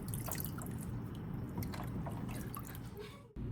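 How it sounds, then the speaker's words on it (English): Bean sprouts are rinsed with clean water and drained, a continuous close splashing trickle with scattered drips that cuts off abruptly just before the end. "soak and rinse them a few times with clean water to make sure they are fresh and crisp"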